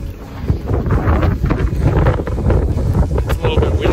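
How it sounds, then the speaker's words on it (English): Wind buffeting a microphone outdoors beside a van, a steady low rumble with gusty swells throughout, loud and close. "Kind of hard to tell, but that is wind."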